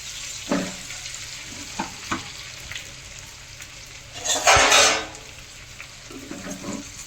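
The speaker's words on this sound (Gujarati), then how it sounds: "હવે હું આને એકવાર હલાવી લઈશ એટલે તેલમાં બધા સળી જાય" Stuffed brinjals in oil with mustard seeds, cumin and asafoetida over a low flame, a soft sizzle under intermittent stirring taps and one louder surge of hissing midway.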